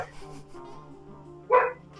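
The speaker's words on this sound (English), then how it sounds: "my brown dog's barking outside." A dog barks outside, heard indoors: a low muffled grumble at first, then one sharp, louder bark near the end, somewhat distant.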